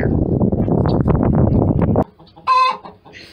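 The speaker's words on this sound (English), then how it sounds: "We have a hen who's getting ready to lay an egg in there, so she's yelling at us." A hen in a newly renovated chicken coop squawks loudly before laying an egg, a dense stretch of clucking and cackling followed by a pause and then one sharp, high call.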